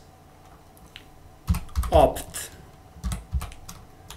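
Keys clack on a computer keyboard while a command is typed into a terminal, with soft scattered taps followed by a louder burst of quick strokes, close and fairly quiet, while a person talks faintly.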